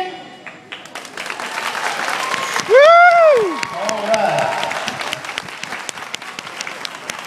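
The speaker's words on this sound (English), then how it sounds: "give her another hand clap, please" A talent show audience in Abingdon claps steadily and fairly close, with a brief rising whoop near the middle before the applause thins and continues.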